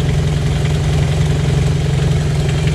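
A Toyota Corolla EE90 with a 2E engine idles close by, a loud, steady low rumble with an even mid-range drone and no revving, while the exhaust needs a new gasket.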